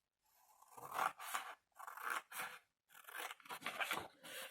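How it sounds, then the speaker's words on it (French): Scissors cutting paper for a Harry Potter mini album, close and crisp, several bursts of snipping and rasping cuts separated by short pauses. "je coupe celui d'en haut"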